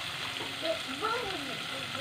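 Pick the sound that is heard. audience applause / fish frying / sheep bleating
fish frying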